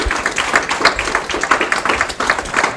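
Audience applause at a research talk in Lyon, a dense, close round of many hands clapping steadily throughout.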